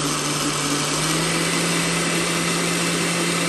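A blender whirring through mango juice, a steady high motor hum with a constant low drone, close and loud throughout without pause.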